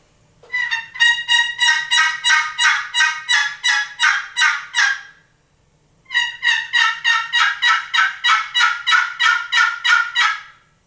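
Primos wooden box call imitating a wild turkey, played close and loud as two long runs of rapid, evenly spaced raspy yelps separated by a short pause.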